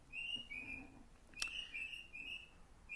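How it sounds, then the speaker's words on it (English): Garden birds singing nearby, a series of clear high whistled notes and chirps in repeated phrases over quiet background, with one sharp click partway through. "Sorry for the birds, it's really loud here."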